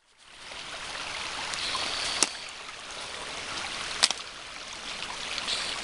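Water spills over a beaver dam in a steady, even rush close by, with a couple of brief clicks and knocks over the flow and no voices.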